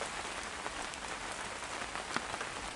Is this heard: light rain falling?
yes